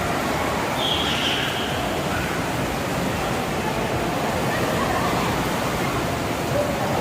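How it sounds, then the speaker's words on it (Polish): Artificial wave machine running in an indoor tropical water park pool at a hotel, a steady loud wash of churning, surging water filling the space with no break. "Jest sztuczna fala odpalona, co?"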